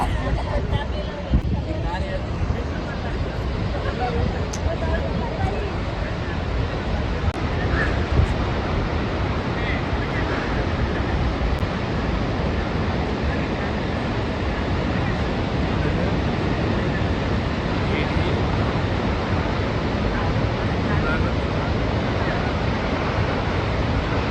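Jog Falls waterfall pours as a constant, dense roaring rush that fills the whole stretch evenly, with wind buffeting the microphone and faint crowd murmur underneath.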